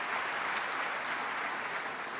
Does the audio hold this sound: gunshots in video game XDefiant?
no